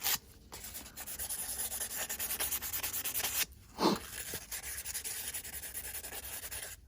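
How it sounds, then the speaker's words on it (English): Steady rasping strokes of sanding scrub carbon coke off a Webasto diesel heater burner part, a continuous close scratchy rubbing with a brief pause midway before the sanding resumes. "Just sand the coke off."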